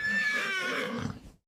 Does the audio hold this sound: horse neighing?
yes